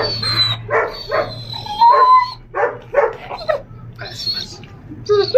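Suska, a female dog recovering after surgery for blood poisoning, lets out repeated high, yelping barks and whimpering whines in uneven bursts close by, with a low steady hum underneath.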